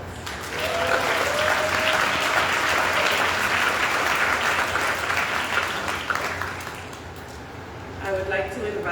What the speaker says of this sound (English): You all deserve a round of applause.